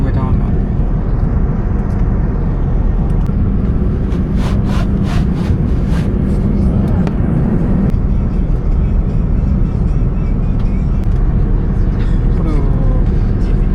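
A steady, loud broadband roar fills an airliner cabin four hours into a flight over Australia, while someone talks over the constant drone.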